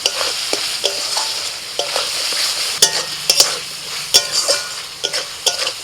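Capsicum and kasuri methi fry in a spice masala, a close continuous sizzle broken by sharp scraping stirs and a few clinks of a spoon against the pan.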